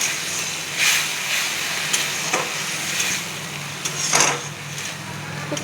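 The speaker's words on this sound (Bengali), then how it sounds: "এবার আমরা বেটে রাখা পোস্ত আর শুকনো লঙ্কা বাটাটা দিয়ে দিচ্ছি। দিয়ে আবারও নাড়ছি।" Poppy seed and dried chili paste stirred in a frying pan, giving a steady sizzle with scraping strokes of the spatula and a few louder stirs, close up and without talk.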